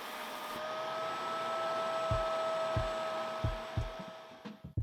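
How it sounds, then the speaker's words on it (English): A Bissell TurboClean carpet cleaner runs with a steady, droning motor hum while sucking up poured water, with soft irregular gurgling thumps breaking through toward the end. "I'm gonna pour some extra water and I'm gonna try to suck it up."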